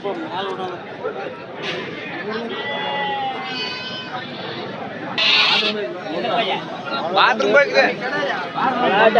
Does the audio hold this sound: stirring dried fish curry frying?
no